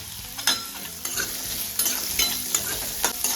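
Finely chopped pumpkin sabzi with asafoetida and chilli sizzles while being stirred and sautéed in a pan, with repeated scraping strokes of the spoon every half second or so over a steady frying hiss, close up and with no talking.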